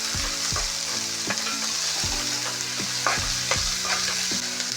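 Finely chopped capsicum frying for baby corn Manchurian while being stirred in a pan, a steady sizzle broken by repeated scraping strokes of the spoon against the pan, close and without talk.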